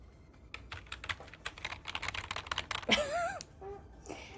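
Fast, clattering keystrokes on a noisy, clicky computer keyboard, picked up close by a phone used as a microphone, run continuously for about three seconds before a brief voice-like sound and a quieter stretch.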